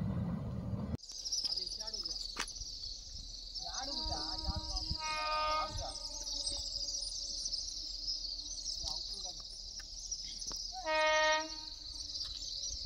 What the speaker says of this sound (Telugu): ఇందాక కనిపించిన వైట్ గూడ్స్ ట్రైన్ ఈ కొలాబ్ బ్రిడ్జ్ మీద నుంచి